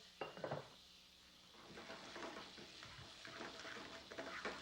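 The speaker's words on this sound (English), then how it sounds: "Now we have this frying up nice." Food sizzles and fries in butter in a pan while a utensil stirs and scrapes against it, quiet and close, with no speech.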